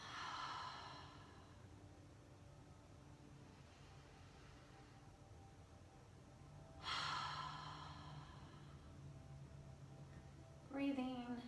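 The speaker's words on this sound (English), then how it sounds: "So let's all just take a breath." A group exhales deeply during a home-based trauma-sensitive yoga session, two broad breathy rushes several seconds apart over a quiet room hum, with a brief voiced sigh at the end.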